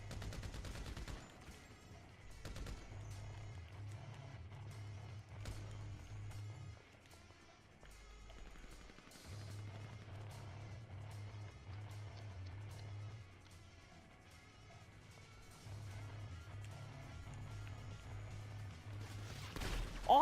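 Grand Theft Auto V gunfire: a faint, distant patter of repeated shots and short bursts scattered through a quiet game soundscape with a low droning tone, occasional louder cracks, no clear speech.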